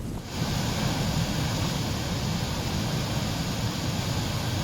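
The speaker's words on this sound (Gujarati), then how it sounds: "ઔરંગા નદી જે ભયજનક સપાટીની ઉપરથી વહી રહી છે" The flooded Auranga river in Valsad runs above danger level after heavy rain. A loud, steady broadband roar of rushing water with wind buffeting the microphone carries on without a break and no voices.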